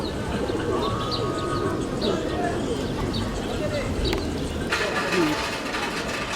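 Pigeons coo among a crowd in an outdoor town square, soft repeated calls mixed into constant chatter and general bustle.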